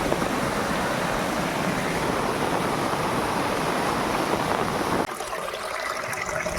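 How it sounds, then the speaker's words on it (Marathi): A small waterfall on a rainy roadside roars as a dense, even rush of falling water, loud and constant, then drops abruptly to a thinner, quieter wash near the end. "छोटासा धबधबा"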